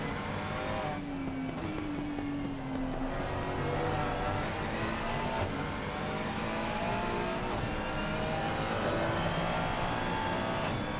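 Race car engines, including a Ferrari and a McLaren, in a sim racing game at Indianapolis. High-pitched engines whine and rise in pitch as the cars accelerate through the gears, loud and continuous, with brief tire squeal.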